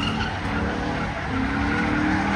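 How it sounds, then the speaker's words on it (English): Tires on a Chrysler 300 screech hard and steadily under a loud engine roar, close by and continuous for the whole stretch. "Tearing them tires up in that 300"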